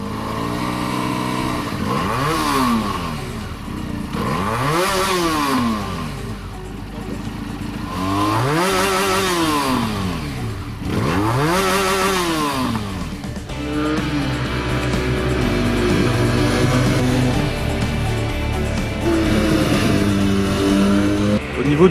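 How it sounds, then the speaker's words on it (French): A Benelli BN 302 twin-cylinder motorcycle engine and exhaust revs close by: four sharp rising-and-falling blips, then a longer sustained climb in pitch. "Ce 300 démarre promptement et grimpe agréablement dans les tours accompagné par le feulement réjouissant de l'échappement."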